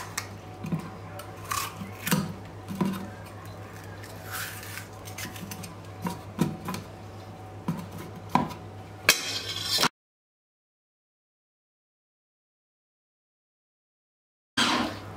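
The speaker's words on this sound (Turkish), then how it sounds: "Kapağı kapatıp ben çektikçe buradan biberlerin devamını da atmaya devam edeceğim." Pull-cord manual food chopper mincing green peppers in a kitchen, a steady run of close rasping, ticking pulls and chops for about ten seconds, then silence, then a brief return at the end.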